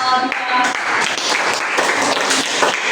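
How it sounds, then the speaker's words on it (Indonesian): A class audience applauds group 2 in a teacher-training session, a steady wash of many hands clapping throughout, fairly loud and close, with a voice briefly audible over it. "beri tepuk tangan untuk kelompok 2"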